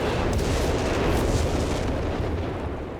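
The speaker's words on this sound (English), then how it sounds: "Base artillery coming down there though." Base artillery barrage landing in Company of Heroes 3 during a 4v4 match on Monte Cavo, dense rumbling booms and blasts rolling together continuously, loud and heavy throughout.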